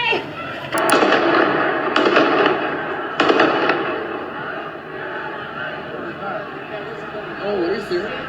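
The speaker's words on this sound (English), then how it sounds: "That's a gun." Several sharp, loud cracks of gunfire ring out at a street protest in Salt Lake City, three close bangs in the first few seconds amid shouting voices and crowd noise.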